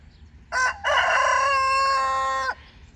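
A Rhode Island Red rooster crows once, close and loud: a short opening note, a brief break, then a long sustained call of about two seconds against faint outdoor background.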